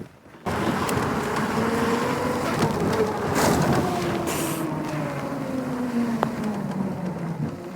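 A homemade three-wheeler sleeper golf cart drives along, its steady motor whine holding under a continuous rumble of rolling wheels, with a faint rising and falling pitch as it moves past at close range.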